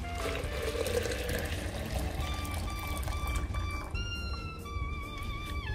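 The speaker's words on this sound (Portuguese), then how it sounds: "Agora eu vou adicionar a mistura aí 1 litro de água." Water is poured into a mixture of cured manure, about a liter, a continuous close pouring and gurgling that rises in pitch as the container fills.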